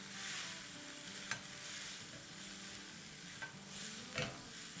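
Chili flakes and white pepper are stirred together in a pan, a quiet scraping and faint sizzle broken by a few sharp spoon clicks, with no talking.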